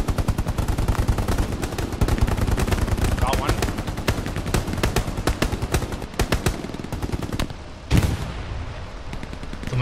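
Rapid bursts of gunfire in the World War II shooter Hell Let Loose, a dense, loud stream of close shots with a sharp blast near the end.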